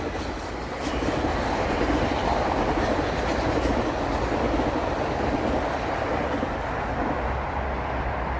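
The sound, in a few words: moving train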